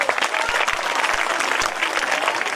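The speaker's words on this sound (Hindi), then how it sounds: "बट नैना सोनी ने जिस तरीके की परफॉर्मेंस दी उसके लिए तालियां तो बनती है।" Audience at a government senior secondary school annual function applauding after a student performance, a dense, steady wash of clapping from a crowd with a few sharper individual claps standing out.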